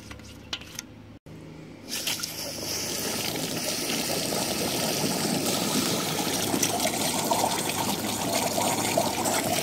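Rusty water drains steadily from the water jacket of a neglected 1975 C20 engine left for years in the woods, a continuous close trickle and splatter after a brief opening clatter, with no voices.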